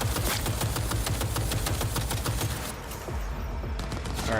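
A heavy gun in Cyberpunk 2077 fires rapid, loud bursts of dense repeated shots, pausing briefly before resuming.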